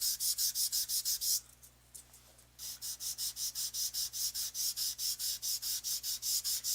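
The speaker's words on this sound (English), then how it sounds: "I'm focusing the sanding on the lettering." Rhythmic back-and-forth sanding on the painted lettering of a wooden sign to distress it, quiet and close, with a brief pause before the strokes resume at an even pace.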